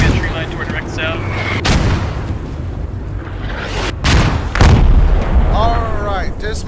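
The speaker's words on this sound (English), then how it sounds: "Careful, Krusty, they're mortaring. They're trying to mortar us." Mortar fire in the tactical shooter Squad: heavy booming impacts and rumbling blasts, including a couple of sharp loud bursts, over a continuous low battlefield roar, with voices talking over it.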